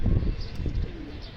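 A brief, close, low coo comes from loft pigeons, one soft throaty call with no voices around it.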